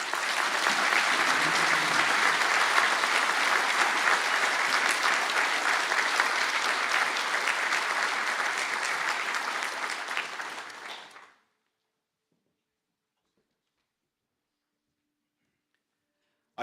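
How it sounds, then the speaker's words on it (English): Sustained round of applause from the audience for postgraduate graduates at a university conferring ceremony in Galway, steady and full for about eleven seconds, then stopping abruptly into silence. "take a well-deserved round of applause"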